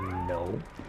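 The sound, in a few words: pet cat meowing in the background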